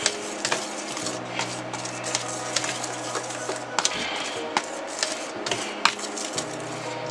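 A fork stirs seasoning with fresh cracked black pepper in a bowl, giving irregular scraping and clinking taps against the dish at close range, with no talk.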